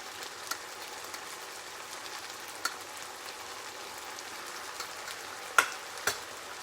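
Grated skinless tomato and cardamom sizzling in a pan, a steady faint frying hiss with a few sharp crackles near the end, no voices.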